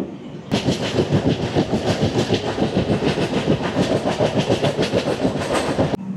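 The Samleshwari Express from Howrah rolls along the rails in Odisha with a loud, steady clickety-clack of wheels over rail joints in a rapid repeating rhythm, heard close from inside the train with no talk.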